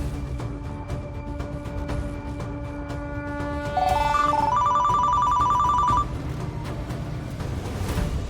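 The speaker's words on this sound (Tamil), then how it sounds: "இன்னொரு வாட்டி கால் பண்ணி பாக்குறேன்." A telephone rings repeatedly in a tonal, warbling electronic pattern during a call back in a Tamil TV drama scene. The ringing is clear and prominent, with a brief louder burst midway over a low background hum.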